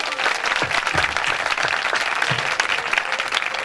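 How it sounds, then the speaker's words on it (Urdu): Loud, sustained applause from a church audience at a Bible teaching gathering, dense clapping throughout with a few hand claps standing out, no speech. "خدا کے نام کے لیے سب زوردار تالیاں"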